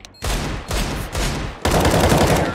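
Rapid bursts of gunfire in the video game CS:GO, loud and close, several sustained volleys with brief gaps between them and a heavier burst toward the end, with no talking.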